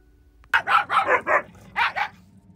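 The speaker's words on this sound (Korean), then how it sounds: "짖는 법 배웠어요." A dog barks in two bursts, a rapid run of five sharp barks followed by two more after a short pause, close and loud on a cold January morning, with no talk over them.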